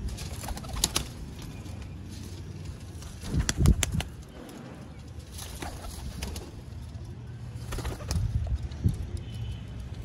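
Sialkoti pigeons kept in a loft coo in low, repeated rounds, joined by scattered wing flaps and small clattering movements close by, with no voices.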